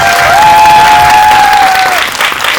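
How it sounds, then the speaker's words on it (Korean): Loud applause fills a cinema auditorium as a film audience at a director and cast Q&A claps steadily, with a sustained tone riding over the clapping before it thins out near the end. "박수 부탁드리겠습니다."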